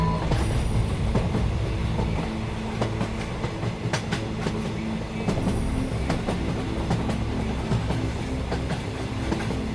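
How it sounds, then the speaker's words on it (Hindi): A train rolls along with steady rumbling and wheel clatter, with scattered sharp clicks and a faint squeal, continuous and fairly loud with no voices, in a cartoon episode. "फिर सापी ट्रेन स्टार्ट हो जाती है और यहाँ से आगे चली जाती है"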